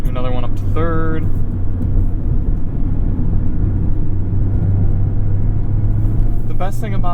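A 2020 Mazda Miata soft-top's engine drones steadily at close range through an upshift to third, its low hum continuous, with someone talking briefly at the start and again near the end.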